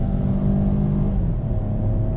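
A Peugeot 408 GT 2023 accelerating from about 50 km/h, heard from inside the cabin as a steady engine drone that builds slightly, with road and wind noise and no talking.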